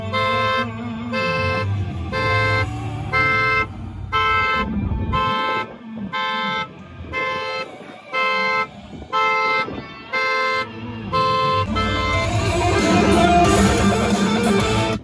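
A Tesla car alarm blares during a break-in, with loud, evenly spaced tonal pulses repeating steadily for the whole stretch and ending in a denser, continuous burst.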